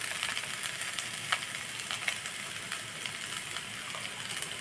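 Cabbage sautés in a pan for cabbage rice, a constant soft sizzle with occasional sharper crackles and light stirring scrapes, fairly quiet and close, with no voices.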